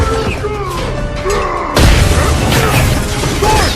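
A loud explosion in a sci-fi action movie bursts in as a sudden broadband boom that sustains into rumbling debris and crackle, following urgent shouted voices and a tonal whistle under layered battle noise.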